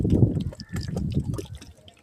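Water poured from a container onto garden plants, including chili and mango plants, gives a steady close splashing trickle with continuous liquid flow throughout.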